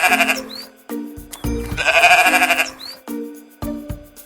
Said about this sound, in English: It's a little cute sheep.